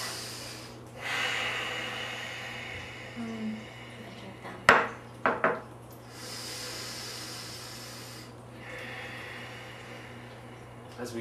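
Slow, deep breaths are drawn in and let out softly and close, separated by a few brief clinks and sharp clicks, over a faint steady hum.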